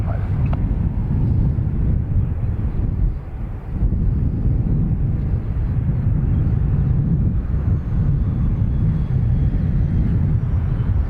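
A CASA C295 aircraft landing at Dublin Airport, a loud, steady engine roar with wind buffeting that holds throughout, dipping briefly near the middle, heard close with no talk in the clip.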